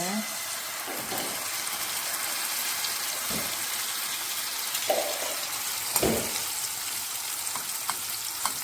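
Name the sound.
oil heating in pan for omelette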